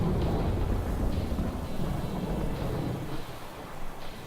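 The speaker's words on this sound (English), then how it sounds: "We haven't had a storm like this all year" A thunderstorm in the video game Three Fourths Home gives a low, rolling rumble of thunder under steady rain, with a soft, continuous wash and no voices.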